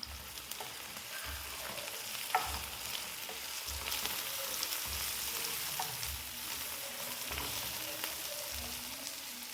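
Chopped onions, curry leaves and half a tablespoon of cumin seeds fry in a hot tempering for ridge gourd curry, giving a steady, dense sizzle with intermittent stirring clatter close by, and no voices.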